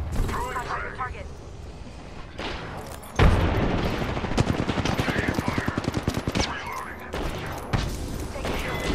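Gunfire and a grenade blast in the battle game Apex Legends: bursts of rapid automatic shots, a sharp loud explosion a third of the way in, then a long rattling stream of fire with game voice lines over the top.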